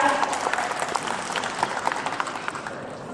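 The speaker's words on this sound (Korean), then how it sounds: "한 박수 부탁드립니다" Applause from the crowd at an award presentation during a badminton tournament ceremony, a dense, steady patter of many hands clapping throughout, fairly close and full.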